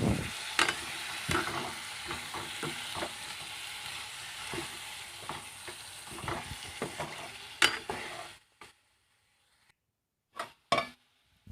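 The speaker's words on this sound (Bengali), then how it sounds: "কাঁকরোলগুলো দিয়ে দেব খুবই সিম্পলভাবে এভাবে কাঁকরোল ভাজা করলে সময় অল্প লাগে" Slices of teasel gourd fry and get stirred in a pan, giving a steady close sizzle broken by scraping strokes of the spatula, then a sudden drop to near silence with a few last clattering stirs.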